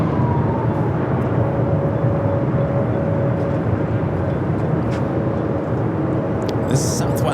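An airliner bound for Japan taxis toward the north side for takeoff at Los Angeles International Airport, giving a steady, loud engine rumble with a faint whine held throughout and no break.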